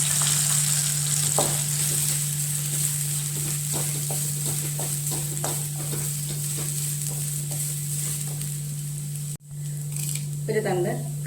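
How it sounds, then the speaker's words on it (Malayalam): Grated coconut and shallots fry together in oil for a roasted Kerala pappadam curry, giving a continuous close crackle with scattered pops and stirring, then a short pause and a brief voice at the end. "അതിനോട് കൂടെ തേങ്ങ വറുത്തെടുക്കണം."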